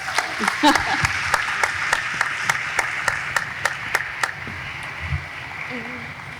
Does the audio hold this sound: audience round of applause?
yes